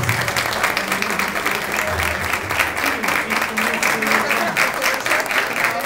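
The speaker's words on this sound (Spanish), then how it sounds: "Aplausos para ellos," A crowd applauds at a welcome event for a visiting mayor from Fredrikstad in Patzún, a steady wash of many hands clapping with faint voices mixed underneath throughout.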